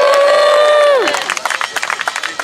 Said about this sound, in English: You may cheer.